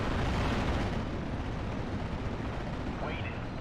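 Rocket artillery explosions rumble continuously during a WWII Normandy 1944 real-time strategy battle, a dense, sustained roar of overlapping blasts with a brief sharper burst near the end.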